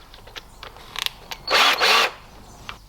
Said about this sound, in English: we'll put the screw head in the drill